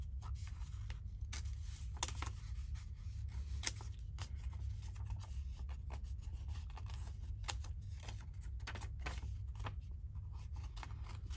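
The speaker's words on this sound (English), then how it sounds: "I'm just wiggling my paper around rather than the scissors" Scissors snipping through paper at a craft table, the paper turned as it is cut; soft, close rubbing and scratchy cuts recur steadily under a low background hum.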